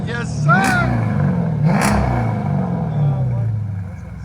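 Deep burbling exhaust from a 2014 Dodge Challenger R/T with a 5.7L HEMI V8 and Carven R-Series exhaust, revving up twice then settling into a rumbling idle, loud and close, with voices talking over it.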